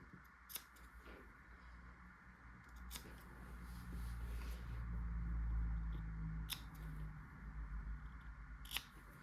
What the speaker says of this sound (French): cranter à peu près jusqu'à la couture en faisant attention de ne pas dépasser la couture